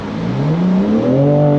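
A 2024 BMW M4 Competition Convertible xDrive launches hard, its engine note climbing steadily in pitch as it accelerates, loud and close with no talk over it.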